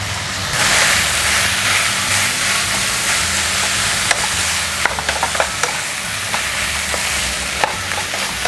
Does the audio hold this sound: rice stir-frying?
yes